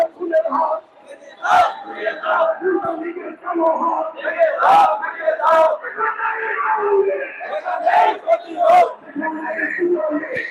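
A Jamaat protest march crowd chants slogans in loud rhythmic call-and-response bursts, the shouts rising and falling with sharp accents while a nearby voice talks over them.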